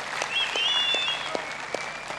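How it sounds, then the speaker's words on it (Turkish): Audience applause for the champions at a TEKNOFEST youth event, a steady continuous clapping that fills the whole clip at moderate loudness with a few sharper individual claps standing out. "Evet, şampiyonlara tekrar alkışlar."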